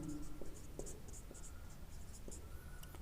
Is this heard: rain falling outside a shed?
no